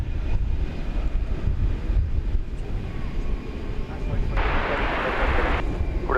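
American Airlines Boeing 777-200 arriving at DFW airport, a distant low jet rumble mixed with wind buffeting the microphone, with a brighter hiss swelling briefly near the end.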